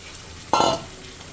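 Potatoes drop into a pan of frying spices, setting off a sudden burst of loud sizzling that lasts about a quarter second and then settles back to a low hiss.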